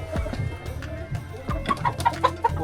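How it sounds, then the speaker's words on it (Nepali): Local village chickens cluck nearby in a scatter of short, fairly loud calls, growing busier toward the end, with faint background noise. "लोकल रहेछ कुखुरा"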